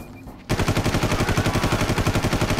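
Rapid automatic M4 rifle fire in the Far Cry jungle-warfare shooter opens after a brief quiet moment and continues as a steady, loud stream of evenly spaced shots to the end, with no talking.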